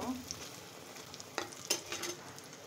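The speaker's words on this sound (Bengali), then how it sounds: "এখন আমি কড়ার ভিতরে ডিমটা ফেটিয়ে রাখা ডিমটা দিয়ে দিচ্ছি। খুব সুন্দর করে এটা আমি ভেজে নেব।" Beaten egg fries in oil in a wok with a faint, soft sizzle, broken by light scraping of a utensil stirring it in a few short strokes.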